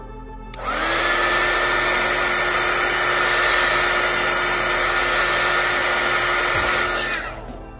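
Heat tool blowing hot air onto the skin of a Nintendo Switch Pro Controller, a steady loud whooshing blower that switches on, holds evenly for about six seconds, then cuts off.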